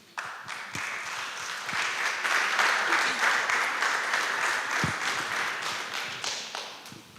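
Broad audience applause at a youth peace and cities conference swells and holds steady, thick and continuous, with a few louder thumps in the mix before it starts to taper.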